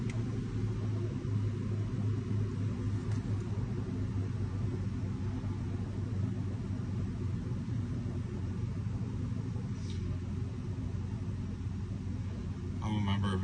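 A Toyota engine with a failed secondary air injection system, running at a steady, loud idle with a continuous low rumble and drone and no clear start, while a voice speaks faintly over it.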